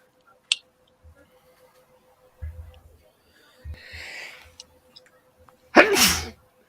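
A single sharp sneeze bursts out near the end after some faint shuffling and small taps; no one speaks.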